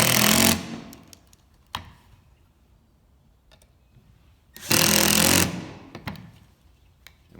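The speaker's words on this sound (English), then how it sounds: "it's just a matter of putting the other screws in" A power driver runs screws into a cup holder on a poly patio arm in two loud, close whirring bursts, each under a second, separated by quiet pauses with small clicks and handling taps.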